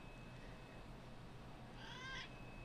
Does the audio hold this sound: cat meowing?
yes